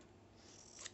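Scissors snip once through paper while cutting an album cover, a single quiet crisp cut near the end of an otherwise hushed moment.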